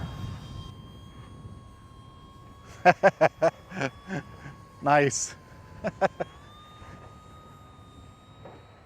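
A Hobbyzone Arrows 1300mm Bigfoot RC airplane in flight gives a faint, steady electric-motor whine that runs through the whole clip, mostly under people talking nearby.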